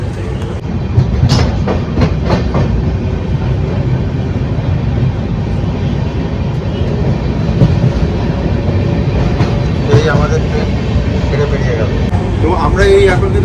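The 12073 Jan Shatabdi Express running from Howrah toward Bhubaneswar through Odisha at night, a steady heavy rumble heard from inside with faint rhythmic rail clatter and brief voices in the carriage.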